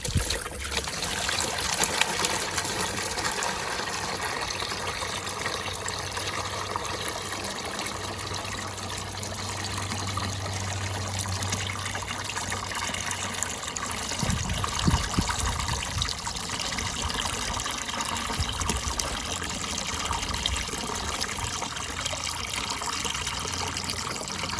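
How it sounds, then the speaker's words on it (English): Water runs steadily through a pressurised pond filter after the flow has been diverted, a continuous close trickling and rushing with a brief clunk midway and no talking. "You just leave it running now until the water comes clear."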